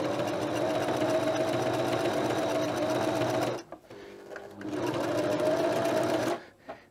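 A sewing machine stitching curtains for a van runs in a fast, steady whirring burst of needle strokes, stops briefly, then whirs again before halting, close up with no talking.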